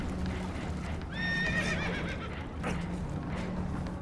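Spooked horses whinny in the video game Red Dead Redemption 2, aboard a boat taking on water. One loud, shrill, wavering neigh rises clearly above a steady rumbling background, followed by a brief sharp snort.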